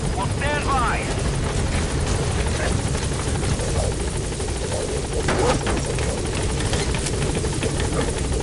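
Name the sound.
helicopter arriving at landing zone in Metal Gear Solid 5 video game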